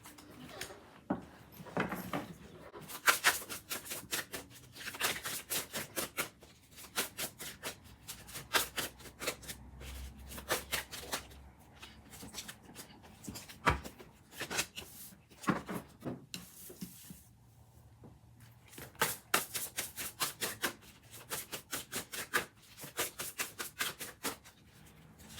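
A deck of oracle cards is shuffled at a distance, producing repeated bursts of quick, soft riffling and slapping clicks with brief pauses between them, faint and steady over about twenty-five seconds with no talking.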